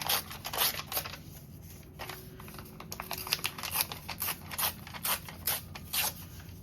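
Paper being ripped from a thesaurus book page, a run of crisp tearing and crinkling bursts in close succession, near and fairly loud, with no talking.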